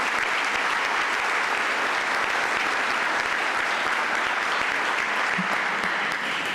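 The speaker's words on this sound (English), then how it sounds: "we could give Core Comp a round of applause." A community health summit audience breaks into a loud, sustained round of applause, dense clapping close and steady for several seconds with no talk over it.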